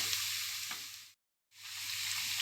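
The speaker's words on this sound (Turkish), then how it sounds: "Soğanları biraz öldürünceye kadar kavurduk. Yumurtalarımızı kırdık. Şimdi güzelce karıştırıyoruz" Onions and eggs frying in a pan, giving a steady, even sizzle with soft stirring scrapes; the hiss cuts out briefly in the middle, then resumes.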